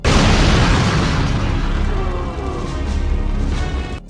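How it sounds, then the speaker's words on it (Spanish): A loud, booming explosion opens the Resident Evil 3 video game, its heavy rumble filling the start and slowly decaying over about four seconds before cutting off abruptly. "de hecho el juego arranca con una explosión"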